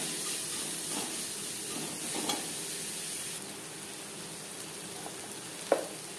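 Chopped onions fry in oil for tilapia curry with a steady soft sizzle and hiss throughout, joined by a few faint stirring scrapes and one brief clink near the end.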